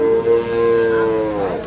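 Young Sindhi-breed calves at a cattle market, one close, loud drawn-out moo with a strong harmonic tone that slowly falls in pitch and fades toward the end, with no talk over it.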